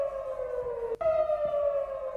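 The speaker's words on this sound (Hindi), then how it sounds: "सायरन भी पीछे बज रहे हैं।" Air raid siren wailing in Israel after an Iranian missile attack, a loud steady tone with a brief break midway before it resumes slightly higher, sounding alone.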